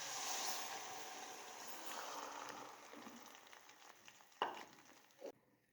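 Fresh saag greens dropped into a hot tadka in a pan, giving a steady broad sizzle that fades slightly, with a couple of sharp clatters near the end before it cuts off.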